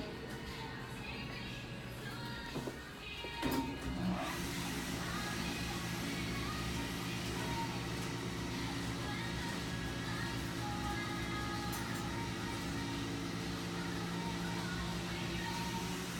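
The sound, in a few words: Montgomery hydraulic elevator motor running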